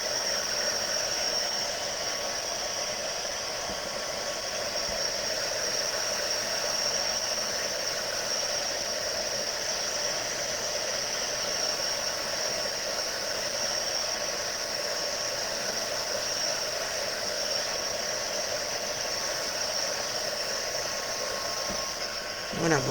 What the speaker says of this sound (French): vous utilisez votre pistolet chauffant pour durcir en fait votre pâte.